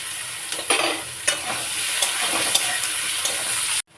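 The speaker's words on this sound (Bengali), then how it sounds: "আলু দিলাম আলু দিলাম অল্প পেঁয়াজ দিলাম" Potatoes and a little onion fry in a hot pan with a steady bright sizzle, punctuated by a few close spoon scrapes and knocks as they are stirred, cutting off abruptly near the end.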